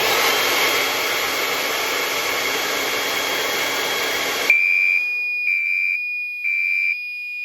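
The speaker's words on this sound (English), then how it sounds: "I'm going to get my hairdryer and point it up at the detector." A hairdryer blows loud and steady at a heat detector for several seconds, then cuts off as a fire alarm panel sounds three sharp beeps.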